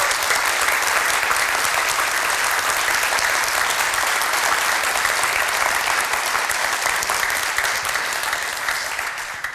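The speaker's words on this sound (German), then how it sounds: "lade ich euch ein, mit mir ganz herzlich mit einem Andreas-Applaus unseren Bürgermeister" A church congregation at a service breaks into sustained, loud applause to welcome the town mayor, steady clapping filling the whole stretch without a break.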